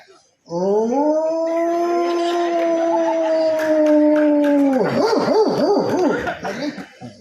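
A man imitates a dog howling with his voice, giving one long sustained howl that then breaks into wavering, yelping whimpers, loud and close, with a little laughter near the end.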